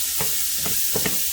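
Chopped onion sizzling steadily in a hot pot for a green chili chicken corn chowder, with a spoon stirring in a few soft scrapes over the constant frying hiss.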